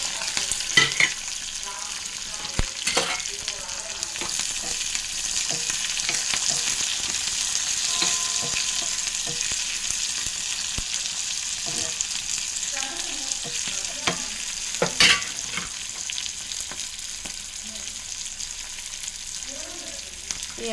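Sliced onions and green chillies fry in hot oil in a pan, giving a steady close sizzle for about twenty seconds, broken by occasional scrapes and clacks of a spoon stirring, with no talk.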